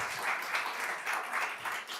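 Audience applause at a legislative hearing, a steady wash of clapping from a room full of people that swells and dips slightly, moderately loud, no one speaking over it.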